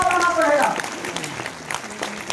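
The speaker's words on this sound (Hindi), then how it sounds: "जोरदार ताली होना चाहिए" Loud applause from an audience at a motivational business talk, a dense wash of clapping with some tonal ringing at the start, then continuing steady and full.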